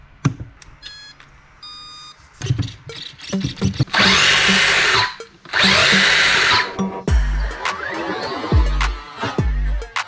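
The electric motor of an Eazy RC Colorado 1/18 RC monster truck, with a few startup beeps, then loud whirring bursts that rise and fall as it drives in spurts, close by and with no talking.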